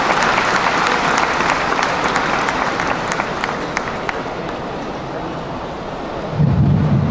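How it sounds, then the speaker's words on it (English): Audience applause in a large convention-centre hall for a Toronto mayoral candidate at a community Eid celebration, a broad sustained clatter of many hands that carries on steadily, thins slightly, then swells again near the end. "Please give him a round of applause."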